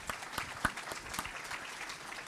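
Sparse, scattered clapping from a conference audience at a tech fireside chat after an award mention, with a few sharp louder claps standing out over a brief, thin round of applause.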